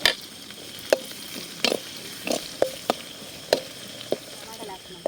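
Green chillies fry faintly in a pan for atukula upma under a low sizzle, while sharp clinks and scrapes of stirring land at irregular intervals, close by.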